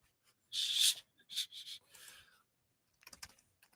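Quiet, close-up clatter of computer keyboard typing comes in short bursts: a heavy cluster of keystrokes, a few separate taps, a pause, then a quick flurry of light clicks, with no voices.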